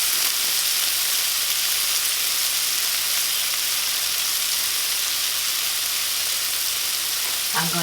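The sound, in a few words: salmon cooking in a hot pan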